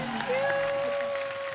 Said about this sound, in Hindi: एक बार रणधीर जी और करिश्मा के लिए जोरदार तालियां।